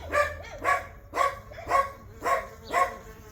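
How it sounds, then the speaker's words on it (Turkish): A dog in a Turkish village barks six times in an even rhythm about half a second apart, loud and fairly close. "Şimdi bu havlayınca öbür karşıdaki köpek de başladı."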